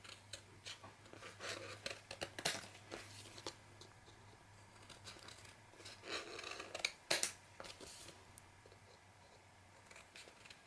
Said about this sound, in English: angle my scissors a little bit, and then cut out